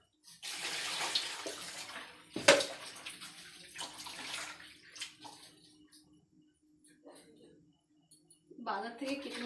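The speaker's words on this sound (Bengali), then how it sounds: "মাংসগুলো আমি আগে ধুয়ে নিই।" Market-cut meat rinsed under running tap water at a home sink, splashing and gurgling in bursts with a sharp clatter, fading to trickles, then gushing again near the end; no clear talk.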